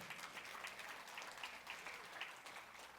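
A church congregation applauds during a Spanish-language service, a soft but sustained patter of many hands heard from some distance.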